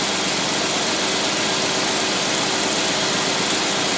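An engine idles steadily on a Holley carburetor as the fuel system runs dry, giving a constant rough rumble with no talk.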